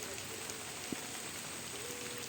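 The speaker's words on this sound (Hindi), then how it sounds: "और अब बारिश थोड़ी तेज़ हो चुकी है।" Heavy rain falls steadily over an open village field, a dense, even hiss throughout with a single faint tap partway through and no voices.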